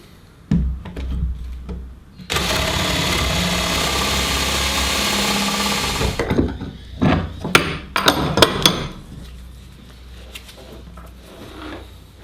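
A blunt spade bit bores a 10 millimetre hole for guitar strap locks, a loud steady whir of about four seconds after a few knocks, followed by sharp clicks and taps.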